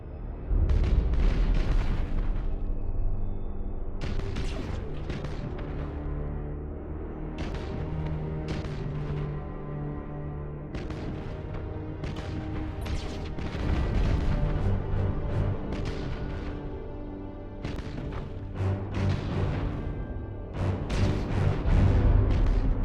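Warship weapons in the Gothic Armada space battle game fire in a dense, continuous barrage, with loud booming explosions and cannon blasts rolling one after another over a deep rumbling bed of battle noise.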